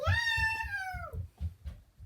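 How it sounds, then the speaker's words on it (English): A cat lets out one clear, drawn-out meow close up, followed by soft rhythmic rustling sounds. "I think it was a meow"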